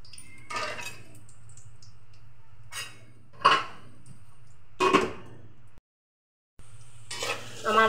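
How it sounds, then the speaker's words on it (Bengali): Small potatoes salted and frying in a covered pan, heard as soft sizzling broken by several sharp scraping stirs and clinks of a utensil, with a brief silent gap near the end. "আমার আলুগুলো একটু ভাজা হয়ে আসছে"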